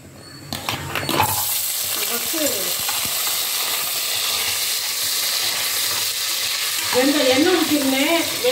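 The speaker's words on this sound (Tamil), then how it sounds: "ஒரு முட்டை எண்ணெய், ஒரு முட்டை நெய் ஊற்றிட்டு வெங்காயம் போட்டு வதக்கிறேன்." Onion and garlic sauté in a mix of oil and ghee, giving a steady, close sizzle with spatula scrapes and stirring. A faint voice murmurs briefly near the end.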